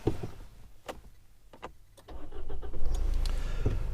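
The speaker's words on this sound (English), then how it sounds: "there's a bit of a diesel grumble coming through into the cabin" An Isuzu D-Max AT35 diesel pickup is started from inside the cabin: a few clicks and clunks, then the engine cranks, catches and settles into a steady low diesel idle.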